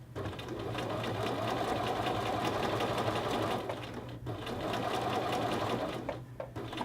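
A sewing machine runs steadily, stitching a men's shirt collar band to its facing at a 5/8-inch seam, with a continuous close mechanical whir that briefly slows near the end.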